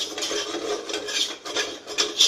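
A spoon stirring kalakand mixture with ghee in a hot kadhai: repeated scraping and rasping strokes against the metal pan, close and fairly loud, in an uneven rhythm with no talking.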